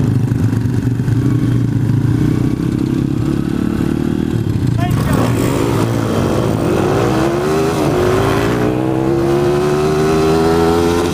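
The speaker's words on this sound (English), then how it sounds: "We were revving all the race cars up." Race car engines rev loudly nearby, a heavy droning roar with rising and falling pitch sweeps as throttles climb, sustained and close.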